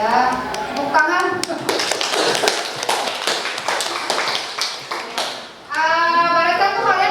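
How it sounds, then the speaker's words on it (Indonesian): A school class applauds in a dense, continuous patter of many hands clapping, fairly loud and close, with a voice speaking before and after. "tepuk tangan"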